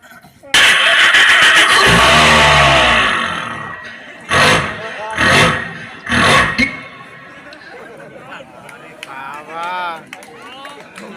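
A man, a mimic, imitates a car engine starting with his voice: a loud, rough sustained cranking roar followed by three short revving bursts, then quieter speech.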